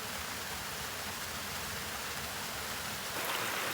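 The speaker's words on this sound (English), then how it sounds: "The waterfall behind the property is going full steam ahead." A waterfall behind a property in full flow after a storm, a dense, constant broadband rush of falling water, close and loud without a break.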